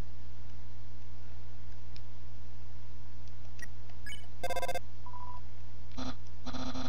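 An Undertale phone call rings as short electronic beeping tones in a few quick bursts, set against a quiet, steady game background hum.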